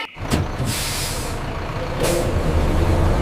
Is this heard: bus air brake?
yes